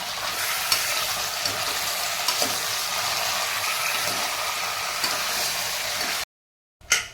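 Chicken is added to a pressure cooker pot with cinnamon, star anise and bay leaf and stirred, giving a busy close sizzle with scraping that runs steadily before cutting out briefly, followed by a knock.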